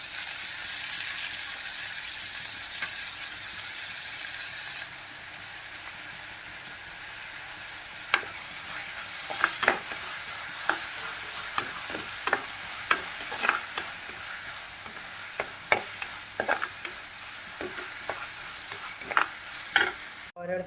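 Fish curry masala being sautéed over a high flame in a clay pot, a soft steady sizzle with scraping, stirring clatters growing more frequent partway through, close and fairly quiet.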